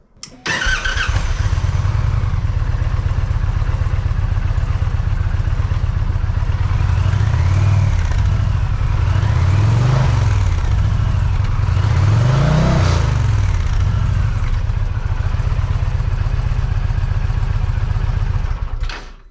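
A loud 2023 Indian Challenger motorcycle with Rinehart slip-on exhausts idling with a deep, throaty exhaust rumble, blipped with several quick revs that rise and fall.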